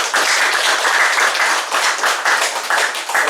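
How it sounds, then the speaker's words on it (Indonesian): Loud, close applause from a church community gathering as the new leader of a spiritual district is welcomed, dense clapping throughout with no speech. "Kita tepuk tangan untuk beliau."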